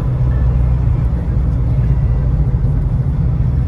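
A 1986 Ford Bronco XLT on the move produces a loud, constant low engine rumble and road noise with no breaks across the few seconds.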